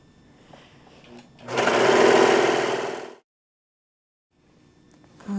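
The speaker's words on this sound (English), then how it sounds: "it's ready for sewing on the sewing machine" A sewing machine stitching a ribbon skirt runs in one close burst of about two seconds, a busy mechanical whirr, then stops; quiet handling sounds come before and after.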